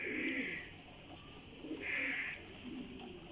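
Champion flying pigeons coo softly in two drawn-out bursts, faint and steady with a quiet gap between, no voices.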